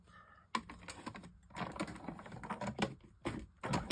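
Scissors cut a shape out of black card, giving a close series of crisp snips and papery crunches in irregular bursts with brief pauses between cuts.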